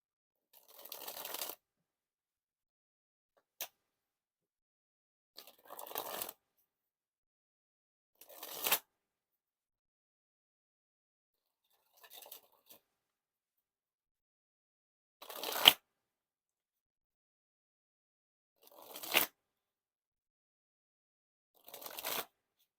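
Blue Nexus playing cards are dribbled from hand to hand in eight short bursts of rapid fluttering riffles, each about a second long, separated by silent pauses, close and fairly soft.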